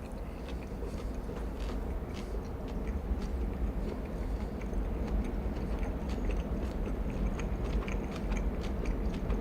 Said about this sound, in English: Is it gross hearing me chew?